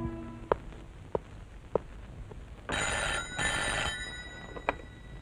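A telephone rings in an office scene in a Kannada film. Two loud, sustained bursts of ringing come after a few sharp knocks, and no one speaks.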